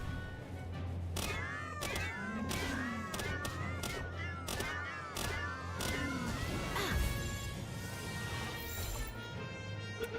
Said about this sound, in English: It's a lot of meowing.